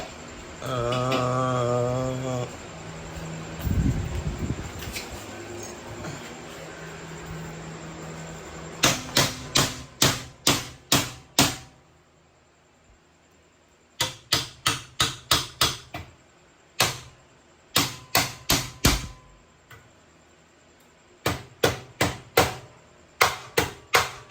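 Sharp, loud hammer blows in quick bursts of several strikes, separated by pauses, after a brief stretch of talking and clatter at the start, while fitting custom fuel lines to a turbo Acura Integra.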